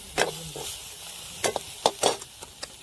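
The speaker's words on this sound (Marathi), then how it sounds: "पटकन कांदा बी परतला आपला।" Onion sautéing in a pan for a dal vada curry, a soft steady sizzle broken by several sharp scrapes and taps of a spoon stirring, close and fairly quiet.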